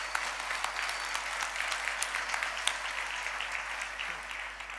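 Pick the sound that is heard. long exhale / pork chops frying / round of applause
round of applause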